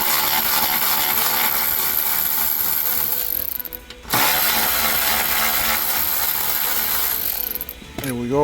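A power tool loudly buzzes out T30 bolts from the aluminum dashboard frame of a Mini Cooper, running in one long continuous burst, stopping briefly, then running again before winding down.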